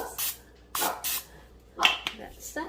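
Several short hissing bursts of aerosol cooking spray onto a waffle maker, close by, separated by brief pauses.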